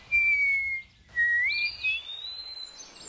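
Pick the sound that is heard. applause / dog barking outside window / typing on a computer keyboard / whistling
whistling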